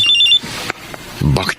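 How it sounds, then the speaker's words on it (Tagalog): A cellphone rings with an incoming call in a radio drama, a short bright electronic trill at the start, quickly followed by a loud voice speaking over the scene. "Ang cellphone. Tumatawag."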